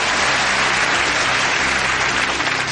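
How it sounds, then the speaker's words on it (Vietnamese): A studio audience at a Vietnamese televised quiz show final applauds a contestant: dense, steady clapping close and loud throughout, with no voices over it. "Chúng ta một lần nữa hãy cùng dành một tràng pháo tay để chúc mừng Sĩ Hoàng."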